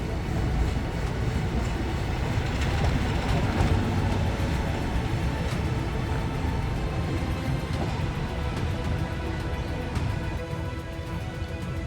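A passenger train with big open windows rolls along the line toward Kep Beach, Cambodia, giving a steady, loud rumble and rattle of wagons throughout, close by and without pause.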